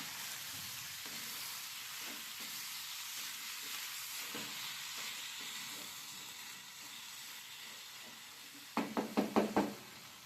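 Chopped ridge gourd fries in a pan with a soft, steady sizzle and hiss, broken by a few light knocks and a quick burst of louder stirring taps near the end.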